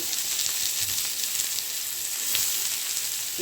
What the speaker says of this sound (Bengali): গরম তেলটা হয়ে গেছে বেশি পেঁয়াজটা দেবো পেঁয়াজটাকে ভাজবো